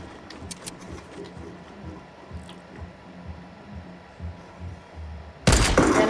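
A single sniper rifle shot in Fortnite, a sharp loud crack bursting out near the end after several seconds of low, murmuring game rumble.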